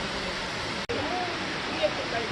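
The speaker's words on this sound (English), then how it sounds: "It's very cool to just watch the water flow down." A waterfall on Ulleung Island, South Korea, reached by a short hike: a steady, broadband rushing of falling water, close and fairly loud, continuous apart from one momentary dropout.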